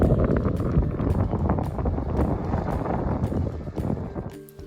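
Wind blasts across the microphone at an off-road camp spot in Baja, a loud, close, gusty rumble that buffets continuously for several seconds with scattered rustling underneath.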